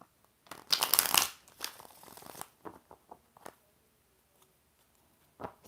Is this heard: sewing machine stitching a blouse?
no